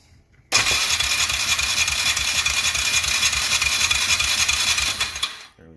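A Polaris Sportsman 335 ATV engine cranks over and catches abruptly. It then runs loud and steady at close range for about five seconds before cutting off, with no voices heard.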